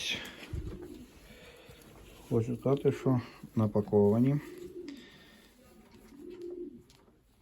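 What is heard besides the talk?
pigeons cooing in a dovecote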